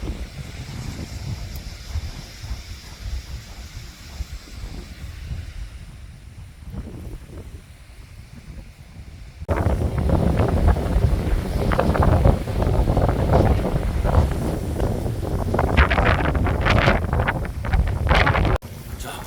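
Strong wind buffets the microphone at a carp fishing spot beside the water, a steady rushing roar that grows louder and rougher in the second half, with no speech.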